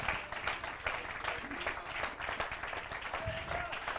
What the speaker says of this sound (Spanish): Denle fuerte el aplauso a la gloria de nuestro Dios